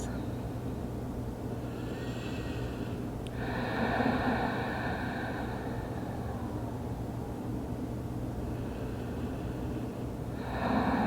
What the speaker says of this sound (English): And take a few breaths.